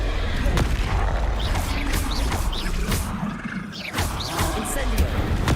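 Spell impacts from Hogwarts Legacy, a Depulso force-push blast among repeated booming hits and crashes over a dense, continuous game soundscape with music and effects, several sharp thuds spread across the stretch.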